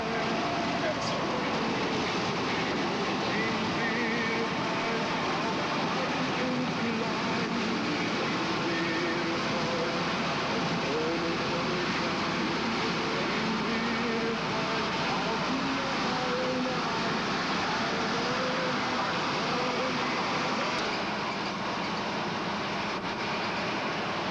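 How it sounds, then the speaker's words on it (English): Steady, loud rumble of road traffic near Morro Bay, California, continuous with no breaks, forming a dense wash of engine and tire noise. "Traffic."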